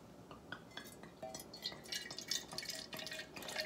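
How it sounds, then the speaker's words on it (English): Wine poured into a decanter trickles and drips in a quiet, continuous stream with soft glassy splashes, growing slightly busier toward the end. "now we'll decant the wine"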